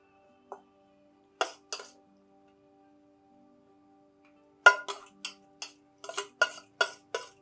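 Small bowls clink sharply as they are set into an idli steamer vessel: a few isolated taps, then a quick run of light clinks in a quiet kitchen, with no voices.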